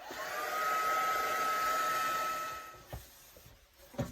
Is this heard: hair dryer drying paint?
yes